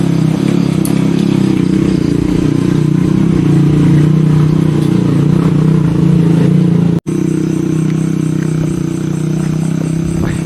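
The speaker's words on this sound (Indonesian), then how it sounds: "Sini masih banyak, masih dilalui motor, masih ada motor." Motorcycles running on a mountain trail on Mount Sanggabuana at night, a steady loud engine drone with clattering that continues almost unbroken, with one brief dropout near the end.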